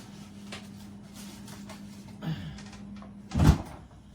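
A kitchen freezer door is pulled open to take out grated cheese, giving a soft thud and rattle, with a fainter handling clunk just before it over a low appliance hum.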